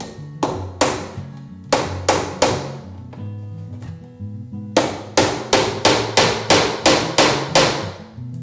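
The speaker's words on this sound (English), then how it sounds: "Now I'm using 1-inch brad nails or finishing nails just to tack" Repeated hammer blows tack 1-inch brad nails into cedar strips on a Shearwater 17 kayak, with sharp close taps in quick bursts, a short pause, then a longer steady run of strikes.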